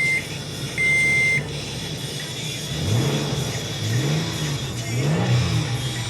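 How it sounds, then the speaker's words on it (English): A 2007 Toyota FJ Cruiser 2WD with 145,000 miles revs three times in rising surges over a steady idle, heard close by, with a short electronic beep early on. "Revs up nicely, it idles smoothly."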